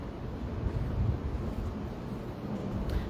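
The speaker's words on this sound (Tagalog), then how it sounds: "Kasi mahangin dito eh." Steady outdoor wind rumbles and buffets the microphone in a continuous low roar, with no clear speech over it.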